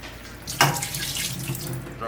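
Water runs steadily from a kitchen tap over scallions, onion, garlic, thyme, rosemary and scotch bonnet pepper, with a brief splashy burst as the bundle moves under the close, continuous stream.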